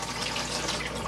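Hot water runs steadily from a tap in the bathroom of an Auto Trail Expedition C73 motorhome, a close, even hiss of flowing water with no voices.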